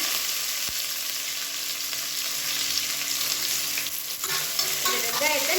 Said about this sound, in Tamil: இதில் மீடியம் சைஸாக ஒரு பெரிய வெங்காயம் நீளமாக கட் பண்ணி சேர்த்துக்கலாம்.